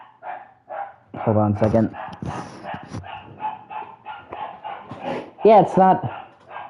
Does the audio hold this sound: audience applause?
no